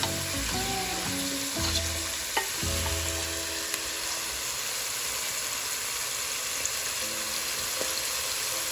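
Vegetables and meat for a chuck roast stew fry in plenty of oil in a pot, giving a loud, constant crackling sizzle with a few stirring knocks near the start. The sound carries on alone without speech.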